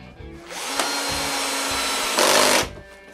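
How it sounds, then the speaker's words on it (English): Power drill boring chamfer holes into the back of a wooden table base, a steady continuous whine that swells louder near the end before cutting off, with no voices. "I begin by drilling chamfer holes on the back"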